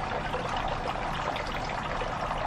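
Water pours steadily out of a houseplant pot being converted to LECA clay balls, a continuous splashing trickle that stays close and even throughout, with no talking.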